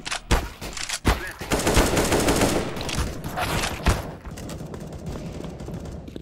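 Gunfire in the Counter-Strike: Global Offensive video game: sharp, loud shots mixed with rapid automatic bursts, fairly dense for the first four seconds and then thinning out.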